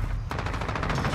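Rapid, sustained AK-47 gunfire in a first-person shooter video game, a loud, dense burst of automatic shots continuing without a break after a brief lead-in.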